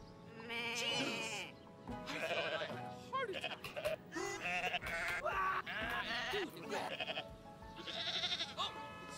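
A goat in the video game Goat Simulator 3 bleats repeatedly in loud, wavering calls, with short pauses between them and a voice talking now and then.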